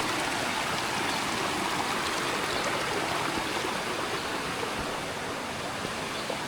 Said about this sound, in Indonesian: Di sini nyebrang sungai sedikit.